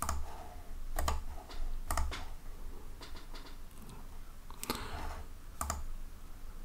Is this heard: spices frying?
no